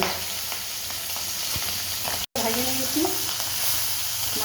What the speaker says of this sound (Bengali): তেল গরম হয়ে গেছে আমি ট্যাংরা মাছ দিয়ে দিচ্ছি ট্যাংরা মাছ আবার ফাটে